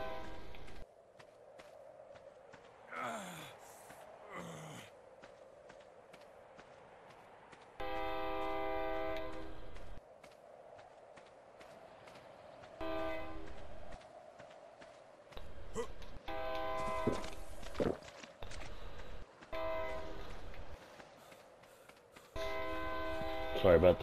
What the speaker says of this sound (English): Sorry about the train noises.